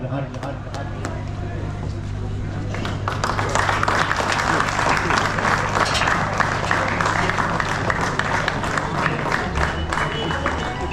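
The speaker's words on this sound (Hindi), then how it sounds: "आइए थोड़ी देर के लिए पुरजोर तालियों से जब किताब सामने आपकी की जाएगी तो इस्तेकबाल कीजिए" An audience at an All India Mushaira in Tudil gives loud, sustained applause for a book being presented, with dense clapping that swells after a few seconds and continues steadily under a speaking voice.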